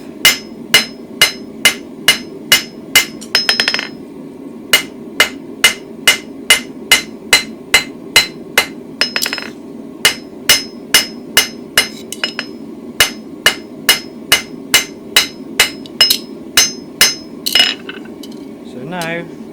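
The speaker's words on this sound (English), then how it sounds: "run my hammer along the length" Steady, rhythmic blacksmith's hammer blows ring on a metal bar while hand forging a barbecue toasting fork, about two strikes per second, sharp and close, with a brief pause midway before the blows resume.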